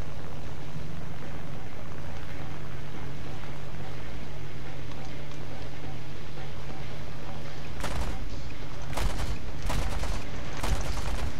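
Enemy aircraft fire from a distance rattles in bursts during a War Thunder aerial fight with a P-38 L, loud cracks near the end over a steady roaring engine drone.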